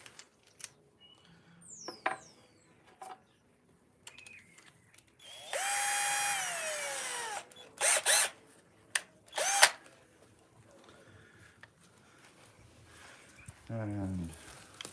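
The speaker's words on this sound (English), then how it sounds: "get the drill" Bursts of a power drill whirring during woodcarving, one long spin then several shorter ones, with clicks and tool handling sounds between them.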